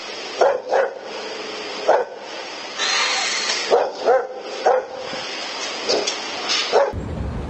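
A small dog barks and yips in short bursts at an irregular pace, close by, with a brief whimpering stretch between barks.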